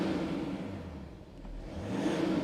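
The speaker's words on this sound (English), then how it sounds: "Very rare do I go revving a diesel engine." A 2021 BMW M340d xDrive with a 3.0-litre diesel engine revs in a low, rumbling rise and fall, dipping midway before building again, heard close and without talk.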